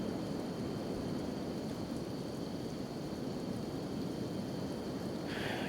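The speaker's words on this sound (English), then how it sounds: "Get out of this acid rain would be grand." Acid rain hisses steadily in the video game Kenshi, a dense, even wash of rainfall with a low rumble of thunder beneath it, continuous throughout and fairly quiet, with no voices.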